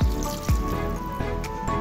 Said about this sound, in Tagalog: maglalagay na po tayo ng 1 tasang tubig muna po.